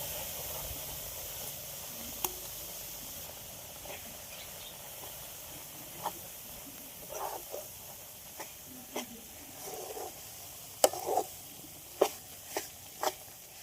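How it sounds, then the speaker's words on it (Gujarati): Urad dal flour roasting slowly in hot buffalo ghee over a low flame, giving a soft, steady sizzle and hiss broken by faint, scattered pops and light ticks from stirring. "ધીમા તાપે આપણે શેકાવા દેવાનું છે આ રીતે કણીદાર થાય ત્યાં સુધી શેકાવા દઈએ"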